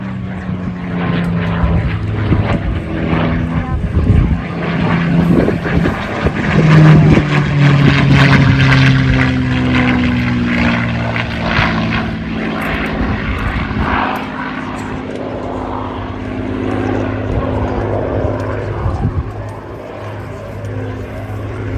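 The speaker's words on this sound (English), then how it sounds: "From the right, this is John Carenti, the P-51." A P-51 Mustang with a Packard-built Merlin engine roars past at an air show, loud and close, its propeller drone rising and then fading, with faint announcer talk beneath.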